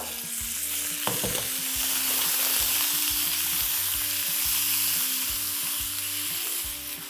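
Chicken breast pieces cut very small fry on a tawa, giving a steady loud sizzle with repeated scraping and stirring knocks throughout and no talking.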